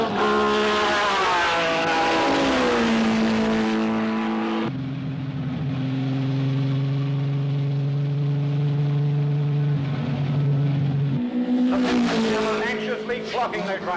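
Race cars roar past on a track, engines screaming high then dropping in pitch as they pass, followed by a long sustained lower drone before another car rises loudly near the end.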